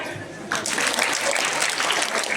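Schoolchildren applaud together at a science program in a government school, a dense burst of clapping that starts abruptly after a quiet moment and continues steadily, loud and close.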